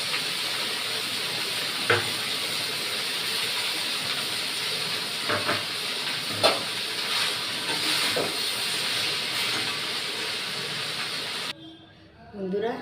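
Suchni saag greens frying in oil with salt and turmeric in a kadai, a continuous close hissing sizzle with a few soft clinks, fading out near the end.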